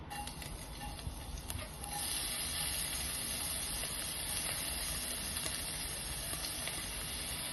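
Onion, green chilies and garlic frying in a pan make a continuous dense hiss that grows louder after about two seconds and then holds steady, with no one speaking.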